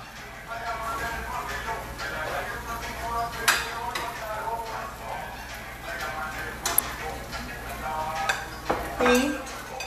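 Plates and cutlery clink and scrape as food is served into a deep dish in a home kitchen, with steady clatter and a few sharper knocks under people talking.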